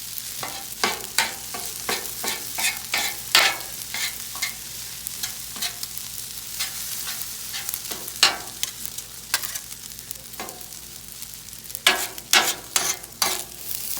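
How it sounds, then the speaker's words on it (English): Repeated sharp metallic scraping and chopping strikes as chicken fried rice is mixed and chopped on a hot griddle, irregular in rhythm, over a steady background sizzle. "he's just gonna keep mixing and chopping, mixing and chopping"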